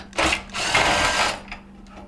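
A power screwdriver whirs in two short bursts close by, backing out screws from the electronic control on a Whirlpool stove console.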